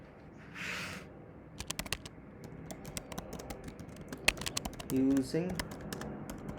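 Rapid, irregular keystrokes on a computer keyboard while writing Kotlin code, close and crisp, with a brief spoken word and a faint voice in the background.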